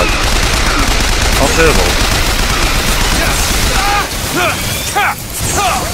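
Turret gunfire in Bioshock Infinite, loud rapid automatic shots and booming impacts in a chaotic firefight, with a voice exclaiming over the noise.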